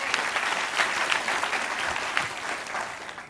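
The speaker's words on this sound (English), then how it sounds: "Round of applause." Steady, dense applause from a seated audience at a coaching session, close and continuous for the whole stretch with no voices over it.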